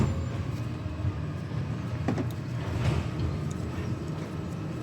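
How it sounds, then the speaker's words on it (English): A garbage truck drives past outside, a low engine rumble with some mechanical rattles and clanks that swells slightly toward the middle and keeps going steadily throughout. "You can hear the trash truck coming by."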